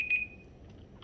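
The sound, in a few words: timer buzzer going off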